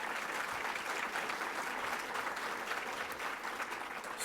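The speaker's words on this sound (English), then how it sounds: "the library got louder applause than the school district" Steady, dense applause from a large audience at a State of the City address, holding at an even level throughout with no speech over it.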